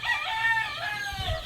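Rooster crowing in a drawn-out call with hens faintly clucking nearby, fairly close and clear over a low outdoor background.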